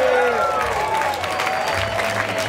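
A crowd at the Freestyle Session 2015 World Finals dance battle applauds and cheers for the DJs, a dense, loud wash of clapping that stays steady under a host's amplified voice.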